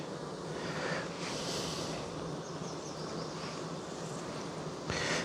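Honey bees buzz around a mating nuc hive in a steady, dense drone that holds close and even throughout, with a brief louder rustle near the end.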